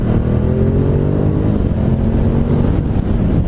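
A 2019 Ducati Multistrada 950 S motorcycle accelerates hard through quickshifter upshifts, its loud, steady engine drone holding close throughout with slight pitch changes as the gears change, no voices over it.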